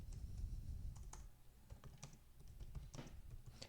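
C++ code being typed on a computer keyboard, with a steady run of quick, close, fairly quiet keystrokes and occasional louder clacks, with no talk.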